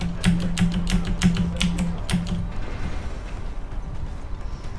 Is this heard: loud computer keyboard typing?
yes